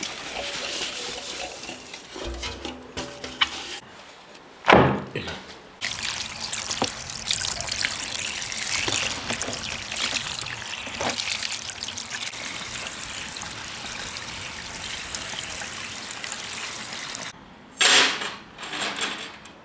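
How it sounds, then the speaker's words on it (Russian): Running tap water trickles and splashes steadily over salted sprats in a colander, a continuous rinse broken by a few louder bursts of pouring and clatter near the start and end, with no talking. "Сейчас мы ее перекладываем обратно в друшлаг и будем смывать соль."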